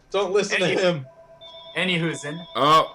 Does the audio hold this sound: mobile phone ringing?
yes